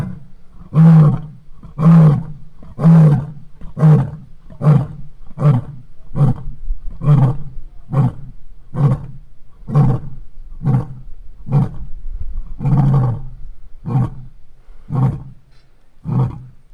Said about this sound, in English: I hear the tiger trio having some choice words with each other.